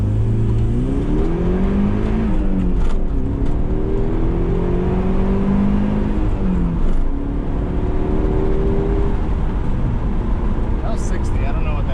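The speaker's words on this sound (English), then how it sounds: "So this is going to be the first dry all-wheel drive launch" A first-generation Eagle Talon makes its first all-wheel-drive launch from a stoplight on dry pavement, its engine revving hard and climbing through the gears in loud, steady pulls, with a voice briefly heard over it.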